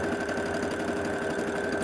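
A sewing machine stitching around the tops of quilt-as-you-go Halloween zipper pouches, giving a steady, even mechanical whir and rapid needle chatter throughout, close and fairly quiet.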